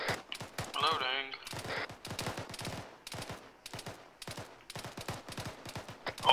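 Rapid bursts of automatic gunfire in the video game Arma 3 come in repeated volleys with short gaps, fairly close, and a voice is heard briefly in the middle.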